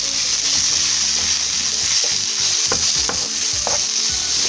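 Onion and garlic fry in a pan for chickpeas with spinach, a constant bright sizzle with utensil scrapes and stirring knocks coming through toward the end.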